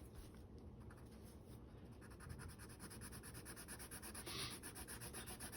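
Colored pencil shades diagonally on paper in quiet, close, rapid back-and-forth scratching strokes that rub on steadily and softly without any talk.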